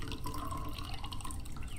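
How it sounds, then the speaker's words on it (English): A kitchen faucet in the video game Routine runs water into a pot, a soft continuous splashing trickle with faint dripping, low in level and heard alone. "So we filling up the pot."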